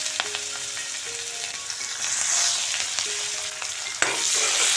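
Chopped onions fry in hot oil in a pan for an egg curry, giving a steady close sizzle broken by occasional clinks and scrapes as they are stirred.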